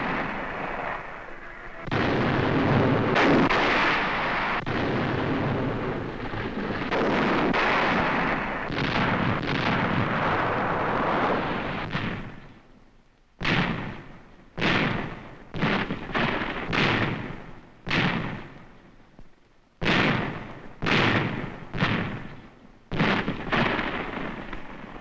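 Canadian artillery firing during WWII training, heavy booming rumble building into sustained roaring blasts, then a series of separate sharp reports spaced a second or two apart, loud and somewhat distant.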